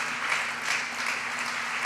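Brief, steady clapping from an audience at a speech by Vice President Mike Pence, welcoming a former corporal, dense and even throughout.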